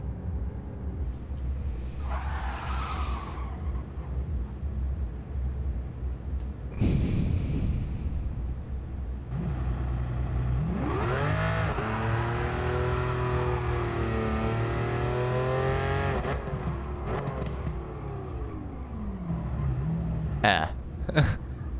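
Supercar engines from a Bugatti Veyron, LaFerrari, Pagani Huayra and Lamborghini Veneno drag race rise in loud, sweeping revs with gear-shift steps, the longest run climbing and falling over several seconds amid wind and breathy noise.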